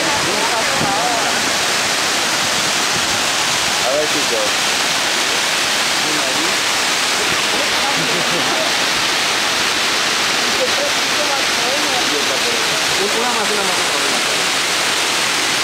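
Shiraito waterfall near Mount Fuji roars as a dense, continuous wash of falling water, loud and close throughout, with a few brief voices speaking faintly under the rush.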